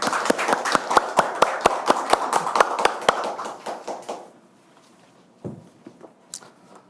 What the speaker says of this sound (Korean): 박수로 선생님의 강연을 청해 듣도록 하겠습니다.